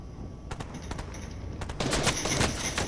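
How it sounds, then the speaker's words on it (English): Rapid automatic gunfire in the Fortnite video game crackles in dense bursts, growing louder and more continuous toward the end, with no talk over it. "I'm getting shot in the back!"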